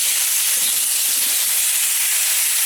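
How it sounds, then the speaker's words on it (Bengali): Taro and kohlrabi pieces, sprinkled with salt, fry in a pan with a steady, loud, even hiss that runs unbroken throughout, with no voices. "সবজিগুলো একটু ভেজে নেব।"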